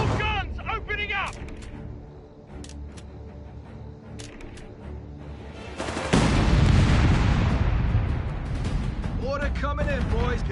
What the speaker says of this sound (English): I want all guns opening up.